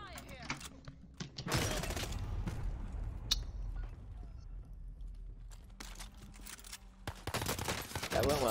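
Bursts of rapid automatic gunfire ring out in Call of Duty Warzone, with loud crackling volleys at the start and end separated by quieter stretches, while a player talks.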